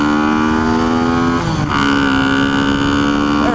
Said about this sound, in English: Getting a little more aggressive with the throttle.